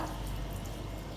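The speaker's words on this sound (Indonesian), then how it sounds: "mencuci tangan dengan menggunakan air mengalir" Hand washing under a running tap, water streaming steadily and close for a brief moment, a continuous gentle splash with no voices.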